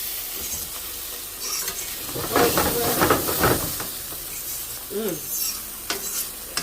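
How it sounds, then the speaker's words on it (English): Cherry tomatoes sautéing in a hot pan give off a steady close sizzle and hiss, broken by scraping stirs and a few sharp pops as the skins burst. "Saute these for like about 3 minutes, guys. Let the cherry tomatoes burst"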